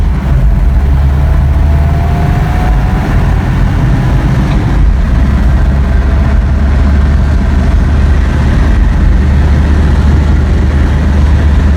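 A 1985 Toyota Pickup on a road test after a fuel filter change, its engine droning loud and continuous from inside the cab with heavy low rumble and road noise, running with a slight skip and hesitation.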